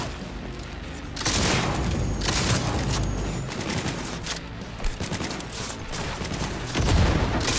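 A gunfight in the video game Cyberpunk 2077 with a shotgun fills the space with continuous loud, dense blasts and crackling gunfire, booming impacts layered over a constant noisy bed without pause.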